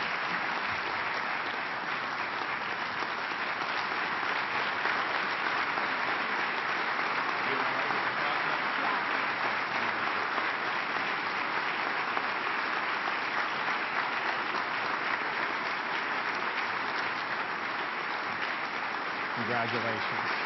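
A large crowd of about a thousand at a state speech applauds and cheers a Courage Award recipient, sustained loud clapping filling the whole stretch evenly, with a voice briefly audible near the end.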